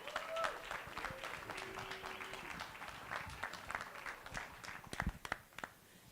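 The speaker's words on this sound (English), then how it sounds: "please give him a round of applause." Scattered applause from an audience at a technology book launch event, fairly faint and uneven, with a few sharper claps standing out near the end.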